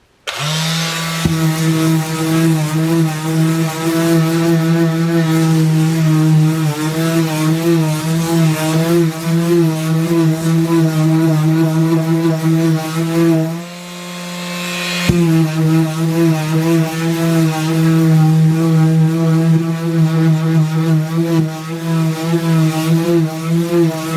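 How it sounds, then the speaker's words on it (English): A power sander runs on a paper mache armour pauldron with fine grit sandpaper, making a loud, steady mechanical whine with a strong hum. It stops briefly about halfway and then starts again, with no voices. "I'm going to use the finest grit sandpaper I've got on this thing, and hopefully that works out."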